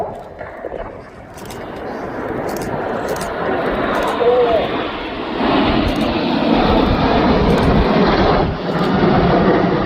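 RAF Typhoon fighter jet passing in a flypast at the RIAT 2025 air display, a loud sustained roaring rush that swells and holds, with a commentator talking over it.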